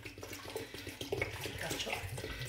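Tap water runs steadily into a cooking pot in a kitchen while artichokes are prepared alla villanella, a continuous splashing stream at close range with faint clatter.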